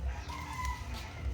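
A chicken gives a short burst of clucking and crowing, brief and moderately close against a low background rumble, with no voices.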